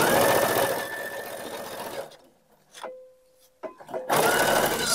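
A sewing machine stitches a zipper onto a small bag in a steady, rapid run. It then stops, leaving near silence with a faint hum and a few small clicks, and resumes stitching at the end.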